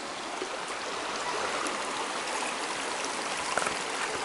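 Shallow river water flows steadily past a campsite beach at Broadwater, a continuous broadband rushing and trickling close by with no voices, holding even in level throughout.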